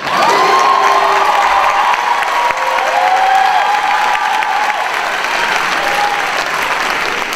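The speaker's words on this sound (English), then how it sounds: "And now you can applaud." Loud, sustained applause and cheering from a commencement audience at a college of performing arts ceremony fill the space, with whoops and shouts rising over the dense clapping throughout.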